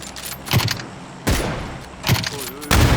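Bursts of gunfire in a shooting video game, several sharp cracks spaced across a few seconds over a busy background of game sound, with no talk.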